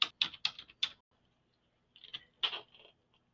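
A computer keyboard clatters with a quick run of four crisp keystrokes, a pause, then a few softer taps and one firm press as a file name is typed. The sound is close and quiet, with no voices.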